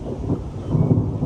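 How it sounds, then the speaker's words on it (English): Thunder during a thunder and lightning storm, a loud, low rolling rumble that continues without a break through a short stretch, with no voices. "during a thunder and lightning storm"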